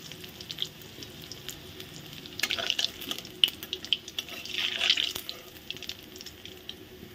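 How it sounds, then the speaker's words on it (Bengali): Pieces of rui fish fry quietly in hot oil, a soft steady sizzle with scattered crackles and a few louder spits in the middle, heard alone without talk. "সবগুলো মাছই সুন্দর লাল লাল করে ভেজে নিয়েছি।"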